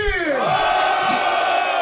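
A rap battle crowd at the Batalha da Aldeia roars and cheers in a loud, sustained wall of voices, with some rising whoops in the noise.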